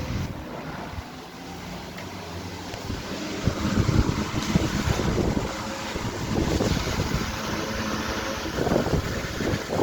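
Two antique Century S3-16 16-inch electric fans running together on high, one with a badly worn bearing, give a steady close airy roar with a faint whine and a rumbling, buffeting wash of moving air throughout.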